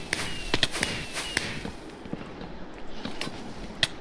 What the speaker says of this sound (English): there's two people with pyrotechnics